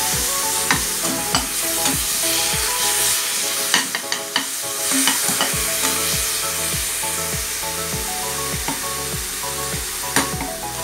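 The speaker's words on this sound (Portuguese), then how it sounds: "Agora eu vou fritar bem a carne aqui, vou dar uma soltadinha aqui" Previously frozen ground beef frying in a pan with sesame oil while a spatula breaks it apart, a constant loud sizzle punctuated by regular scraping and tapping strokes, close up with no voices.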